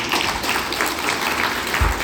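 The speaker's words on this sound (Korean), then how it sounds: "그런 이야기를 우리 박수 한번 하시죠" A church congregation gathered for a closing worship service at a denominational retreat applauds, producing a steady, loud wash of clapping that fills the whole moment without pause.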